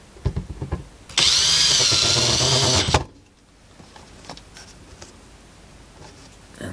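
A power screwdriver whines in a loud burst of nearly two seconds while removing metal screws from the bottom of a Sony TC-W290 cassette deck case, followed by faint clicks and handling noises.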